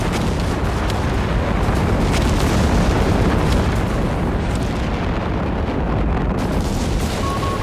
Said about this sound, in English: All of this artillery.